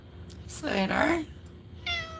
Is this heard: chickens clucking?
no